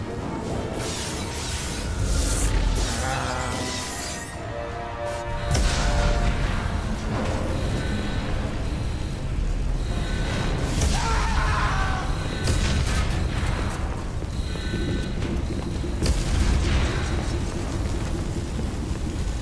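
In the Mass Effect 2 game, a starship comes under attack with hull breaches and fires, producing repeated heavy booms, bursts and rumbling impacts layered over loud game music.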